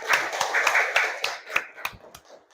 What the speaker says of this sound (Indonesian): kasih aplaus untuk kelompok 1 dulu